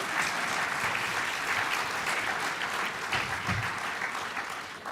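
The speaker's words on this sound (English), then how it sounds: "That requires some applause." Sustained applause from a large audience at a political party conference, steady dense clapping with occasional cheers and crowd noise, fairly close and full throughout.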